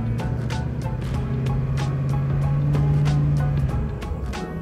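A truck engine with a CP3 fuel pump revving under throttle, a steady low drone rising in pitch midway, accompanied by a series of regular clicking or ticking taps.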